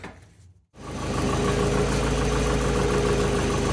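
The engine of a 1990 Volvo 245, fresh oil in it, catches after a brief silence and settles into a steady, close idle with an even low throb and mechanical clatter, warming up with no voices.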